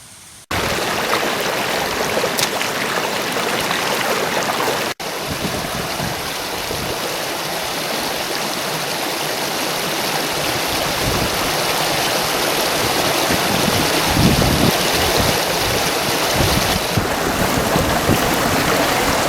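Mountain stream on Howden Edge rushing loudly and continuously in broadband wash, with a sharp knock near the start and another near five seconds as a water bag is filled close by.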